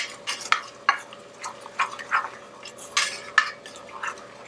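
A spoon stirring seeds into a mixture for Nanaimo bars, a run of soft scraping and clinking strokes in a bowl, close and fairly quiet, with no talking.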